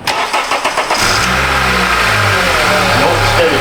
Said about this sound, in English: We're going to cut the key on, start it up.